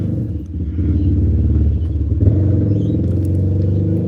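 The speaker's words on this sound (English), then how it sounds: "Can you hear that motorcycle?" A motorcycle rumbles close by, its low engine note holding steady and loud throughout, with faint voices underneath.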